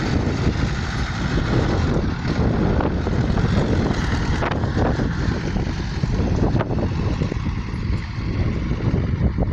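Strong wind roars steadily into the microphone, a constant heavy rumble and buffeting with no voices.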